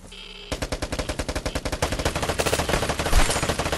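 Rapid automatic gunfire from the online shooter Vigor, a steady stream of close, loud shots that picks up after a brief lead-in and runs continuously to the end.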